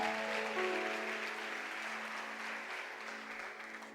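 A worship congregation's applause fills the church hall, steady at first and then gradually fading, over a sustained keyboard pad holding long chords.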